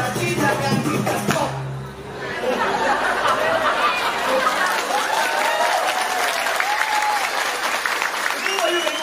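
Audience at a Balinese drama gong performance breaking into sustained applause with chatter and light laughter, while a performer's voice talks over the crowd.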